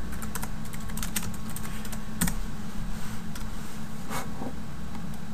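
A computer keyboard clatters as a folder name is typed, giving quick irregular bursts of close key clicks over a steady low hum, with no speech.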